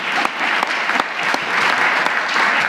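A crowd claps steadily and loudly throughout, a dense, sustained round of applause from an audience.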